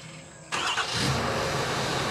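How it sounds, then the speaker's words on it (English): Truck engine starting up: quiet at first, then the starter catches and the engine bursts into a steady running roar that holds to the end. "let's start the truck up."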